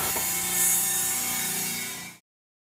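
A shell reamer milling out a welded unicycle crank housing to size for bearing cups, producing a steady, loud grinding metal-cutting sound for about two seconds before it stops abruptly.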